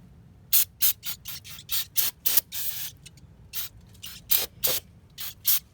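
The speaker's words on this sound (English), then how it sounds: "I'm going to take some brake parts cleaner." A rapid series of short aerosol brake parts cleaner bursts onto Dodge Ram truck wheels, about a dozen quick hisses in an uneven rhythm, with one longer spray in the middle; close by, no voices.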